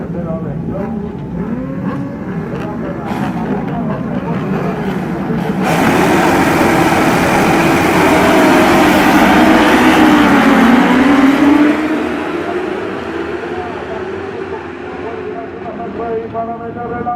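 Racing motorcycle engines roar at a Superbike race start, a loud dense pack sound that swells mid-clip and then eases as the bikes pull away, with a voice audible over it.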